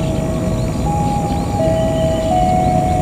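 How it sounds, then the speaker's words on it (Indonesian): A local train arrives at Cimekar station in Indonesia, a steady close rumble with sustained tonal whines from the engine or wheels running through it. "Sebelum melintas kereta api Malabar, terlebih dahulu masuk kereta api lokal"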